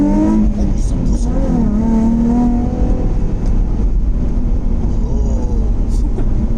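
A Nissan 350Z (phase 3) fitted with an HKS exhaust accelerates hard through the gears, its engine note rising and falling loudly and continuously from start to finish, with occupants' voices heard faintly beneath.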